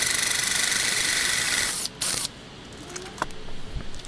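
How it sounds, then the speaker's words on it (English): WD-40 used as cutting fluid hisses out of a small spray bottle in a workshop, a loud continuous spray lasting nearly two seconds, then a brief final burst before quieter shop noise. "in that little spray bottle, I've just got WD-40. That's what I use for my cutting fluid."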